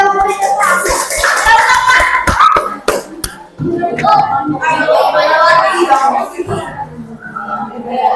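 Children in a classroom clap for the winning group, a burst of brisk, close applause mixed with chatter and voices, pausing briefly before clapping resumes amid talk.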